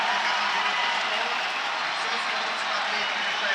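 Home crowd at a CS:GO match finale, a dense, steady roar of cheering and applause that fills the arena without letting up.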